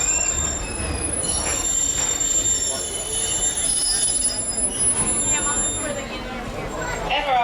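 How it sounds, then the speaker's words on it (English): Walt Disney World Railroad train wheels at Magic Kingdom squeal loudly and continuously as the train slows to a stop, high metallic screeching over rumbling rails, with an announcement voice underneath. "please remain until the train comes to a complete stop"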